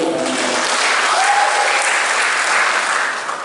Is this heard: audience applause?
yes